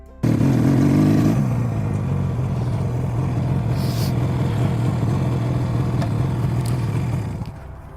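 A restored 50-year-old motorcycle cruises along with a steady low engine drone after a brief louder rev at the start, holding an even pitch before easing off at the end.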